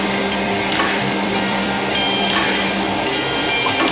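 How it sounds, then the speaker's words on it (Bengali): Pointed gourd and potato curry being stir-fried in a pan over a medium flame, giving a loud, continuous sizzle with a scraping stirring texture throughout. "ভালো করে নেড়ে চেড়ে কষিয়ে নেব"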